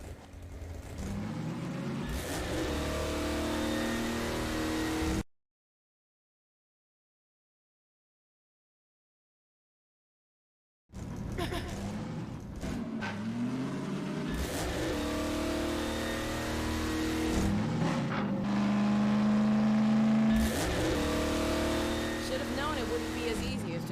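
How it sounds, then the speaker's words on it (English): A car engine from Half-Life 2: Episode Two hums and revs steadily while driving down a road, breaking off into several seconds of silence before resuming with rising acceleration and bumpy rattles. "Driving down the road"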